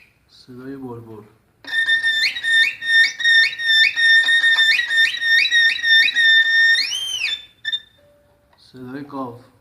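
A high, bright violin line imitates nightingale song with rapid chirping trills and swooping slides, played in quick repeated phrases, with brief spoken voices before and after.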